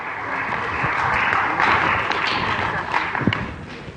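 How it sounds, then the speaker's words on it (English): A room full of people applauds a prize winner called up at a group events gathering, a moderate, fairly even clatter of hands with a few sharper thuds toward the end. "Big round of applause there."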